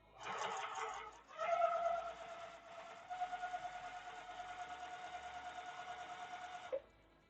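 A sewing machine stitches quilt pieces in a sew-along session, with a rapid, even mechanical whir and needle chatter that starts, pauses briefly, then runs steadily before stopping abruptly.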